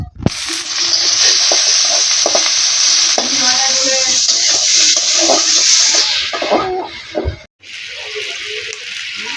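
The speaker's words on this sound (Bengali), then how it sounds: "কড়াইটা গরম করে তেল ঢেলে দিচ্ছি এখন পেঁয়াজটাও ভেজে নিব" Onions fry in hot oil in a wok, making a loud, steady sizzle with stirring clatter, then a brief drop and softer sizzling near the end.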